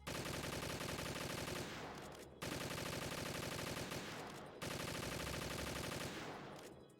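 Rapid gunfire in Metal Gear Solid 2 rattles loudly in three long continuous bursts, each cutting off abruptly before the next, with no talking.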